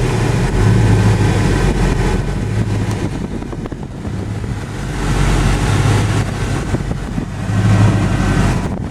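A Ford Fairmont wagon engine running at a low, rumbling idle, steady with slight rises and falls and some wind buffeting the microphone, no one speaking.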